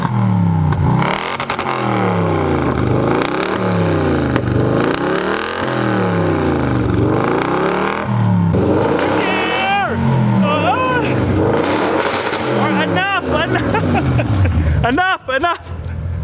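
An 800 hp Audi RS7 fitted with an ARMYTRIX exhaust and race downpipe revs repeatedly from behind the car, a rhythmic series of sharp climbing blips and falls, loud and close, ending with pops and crackles.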